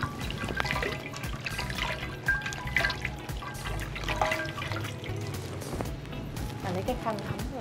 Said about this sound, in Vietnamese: cho một tí nước vô, tạo bọt trên cái sữa rửa mặt này. Và sau đó chúng ta sẽ rửa trên làn da của chúng ta.